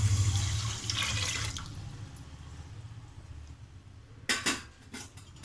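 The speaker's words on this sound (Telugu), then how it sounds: "2 glasses water, 2 or 3 glasses water వేసుకుందామండి" Water pours into a bowl for sugar syrup, a steady splashing stream that fades off, followed by a few sharp clinks of a utensil or dish near the end.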